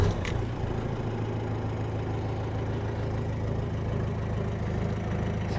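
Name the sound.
Cummins diesel engine idling in Toyota Land Cruiser FJ40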